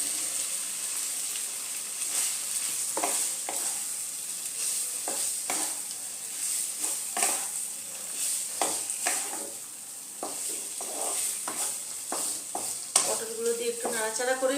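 Pointed gourd pieces fry in a pan of cooked-down spices, giving a steady sizzle broken by repeated scraping stirs from a utensil, close and moderately loud, with no talking.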